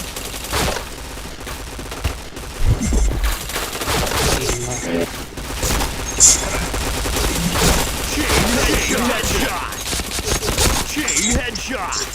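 Gunfire in a video game, with dense rapid bursts and crackling shots filling the clip under and between casual voices talking.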